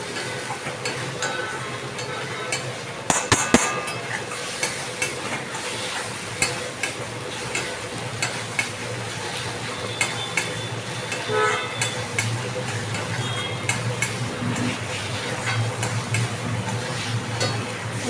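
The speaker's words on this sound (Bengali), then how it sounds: "মশলাটা ভালো করে কষে আসছি" Spice paste for dhokar dalna is stir-fried in a pan, a steady close sizzle with recurring stirring scrapes and a few sharp knocks of the utensil, no voices.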